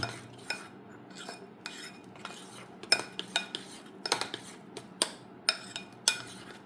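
A spoon clinks and taps repeatedly against a bowl while egg bonda batter is mixed with cornflour, irregular sharp knocks over a quiet background.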